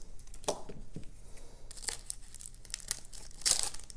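Scissors cutting through a basketball card's packaging, with close crinkling and snipping of plastic and paper, a few sharp cuts and a louder rustle near the end, no talk.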